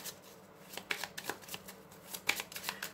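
Tarot cards are shuffled by hand in soft, quick riffling bursts, close and quiet, with no talking.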